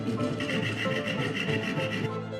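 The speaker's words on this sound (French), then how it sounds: "Serrez ensuite le clou dans un étau et coupez sa moitié à l'aide d'une petite scie" A small hand saw cutting through a metal nail clamped in a vice, giving a steady rhythmic rasp of back-and-forth strokes, close and fairly quiet, with no talk.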